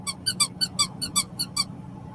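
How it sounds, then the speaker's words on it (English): A dog's squeaky toy squeaks nine times in quick, uneven succession, shrill and close, then falls silent against a low background hum. "You heard the squeaker."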